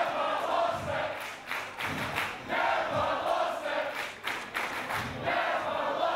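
A wrestling event crowd roaring and cheering, a dense continuous wash of noise with scattered thumps and shouts, steady and loud throughout.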